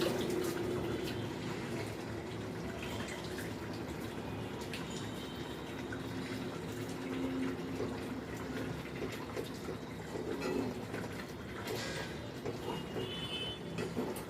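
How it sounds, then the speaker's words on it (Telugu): Water is poured into a pot of tomato rasam on the stove, a steady splashing fill with light drips, close and moderately loud throughout. "ఇంక నీళ్ళు కూడా కొద్దిగా వేసి తీసేయాలి."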